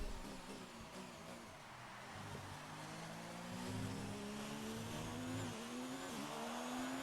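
Race car engine from the F1 2019 video game, a steady rising and falling drone with a sustained engine pitch, holding loud and continuous with no talk.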